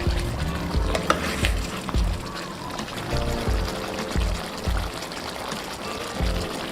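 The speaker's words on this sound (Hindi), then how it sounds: "अभी इसको हम अच्छी तरह से भूनेंगे और तब तक के लिए भूनेंगे जब तक कि ये ऑयल नहीं छोड़ देता।" Chicken karahi fries in hot oil in a wok-like pan, a steady sizzle broken by repeated clanks and scrapes of a spoon stirring the pieces close by.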